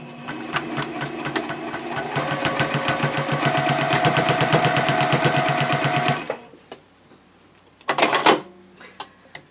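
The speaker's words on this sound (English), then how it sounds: "I'll go over to the machine and baste this piece of elastic in about 1/8 inch from the edge of the elastic." A home sewing machine runs a long basting stitch at 3.0 length, attaching elastic to the edge of a quilted A5 journal cover: a steady rapid whirring for about six seconds, a pause, then a short final burst.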